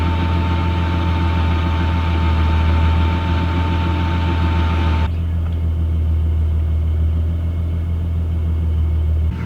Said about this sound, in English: The pump is in, I gave it a test, it is working.